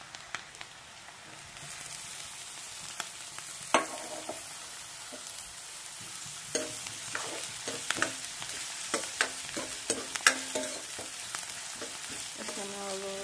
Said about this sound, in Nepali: अब म यसमा गाजर एड गर्छु।